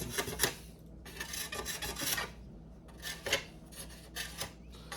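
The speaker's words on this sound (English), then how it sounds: "Trim that excess off, kind of like so." A blade rasps and scrapes in repeated rough strokes as excess plastic is trimmed off a broken fridge crisper drawer; the sound is close and uneven, with brief pauses between passes.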